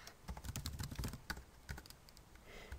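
Typing on a computer keyboard, a quick irregular run of close key clacks that thins out and then picks up again briefly, with no talking.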